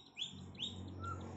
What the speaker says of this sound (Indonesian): Mungkin teman-teman bisa memantau sendiri atau punya feeling untuk membeli murai batu ini.